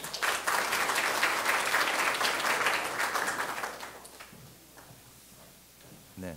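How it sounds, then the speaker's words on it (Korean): An audience at a university presentation competition opening applauds an LG Electronics executive coming up to speak, a full burst of clapping for about four seconds that then tapers off into quiet room noise. "박수로 맞이해 주십시오."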